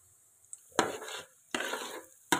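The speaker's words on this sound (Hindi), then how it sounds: "घी काफ़ी गर्म हो चुका है, अब मैं इसमें यह शामिल करने लगी हूँ सूजी जो हमने दूध में भिगो के रखी थी" Semolina soaked in milk and mixed with beaten eggs lands in hot ghee and sizzles in sharp bursts, close up, with stirring and a spoon scraping the pan between them.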